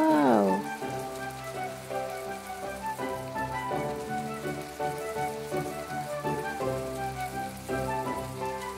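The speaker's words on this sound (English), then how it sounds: "because of the rain, I can't appreciate it much" Rain falls in the video game My Time At Portia, a steady soft patter on surfaces that runs throughout beneath a looping melodic game music track.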